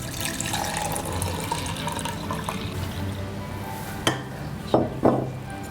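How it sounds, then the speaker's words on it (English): Water poured into a mixing bowl with salt, a steady close splashing trickle running throughout with a couple of brief knocks near the end. "So I'll pour it into the mixing bowl. And then 1 portion of water."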